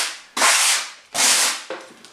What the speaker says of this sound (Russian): берем наждачку, у меня вот такой идет брусок для шлифования